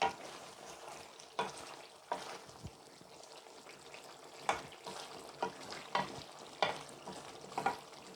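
Meat and three eggs frying together in a pan and being stirred, with a steady sizzle broken by repeated scraping strokes of the spoon, close and fairly quiet.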